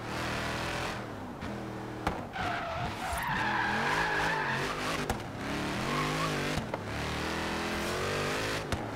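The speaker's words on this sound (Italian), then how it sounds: "Mamma mia, com'è prepotente sta macchina." A muscle car in Forza Horizon 3 roars at high revs throughout, its engine note rising and falling with gear changes while tires skid and squeal loudly in several bursts, with no talk over it.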